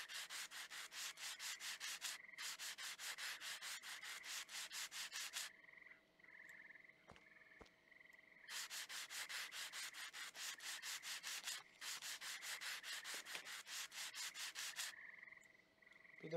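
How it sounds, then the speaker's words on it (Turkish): Sanding in the video game Train Station Renovation: long, continuous rasping strokes of sandpaper on a surface, repeated in steady back-and-forth pulses, loud and close. The sanding breaks off for a few seconds with quieter tones in between, then resumes. "Al zımparayı başla."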